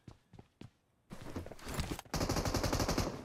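Gunfire in the PUBG Mobile game opens with a few scattered shots, then bursts into dense rapid automatic fire that grows louder and continuous, with no talk.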